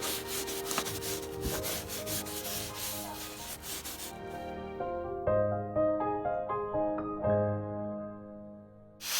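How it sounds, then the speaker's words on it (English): Hands rub oil over a form for casting a concrete firepit ring holding twelve 8-inch tubes, a close, steady scrubbing for about four seconds, then fading under plucked background music. "I'll rub this down with some oil to keep it from sticking"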